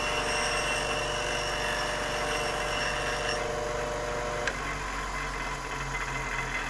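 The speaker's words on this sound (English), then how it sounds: "So we'll apply our tungsten to the sharpener and the grinder." A bench grinder used to sharpen a tungsten welding electrode runs with a steady, loud motor whine and dense mechanical hum, a brief contact scrape near the middle, continuing alone without talk.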